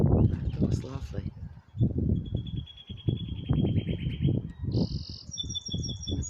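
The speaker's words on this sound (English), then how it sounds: "the birds are coming back to life after all the rain we had. Hear them singing" Birds chirp and sing in the background while a person talks over them; high, repeated tweets come through clearly in the gaps.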